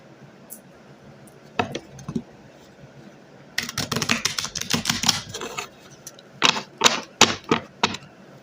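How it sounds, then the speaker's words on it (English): A deck of tarot cards being shuffled, with a brief riffle early, then a long run of rapid papery flicks and taps, a pause, and another short burst, close and fairly loud with no talk. "Let's go ahead and give us a shuffle."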